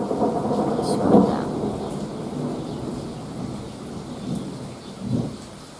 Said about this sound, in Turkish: Bir yıldırım daha düştü.